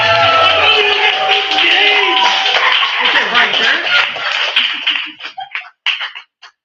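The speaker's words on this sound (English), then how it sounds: "So let's give a round of applause for Neil, everybody." A crowd at an open mic night claps and cheers loudly, with voices shouting over the clapping. The noise breaks into a few scattered, separate claps as it dies down at the end.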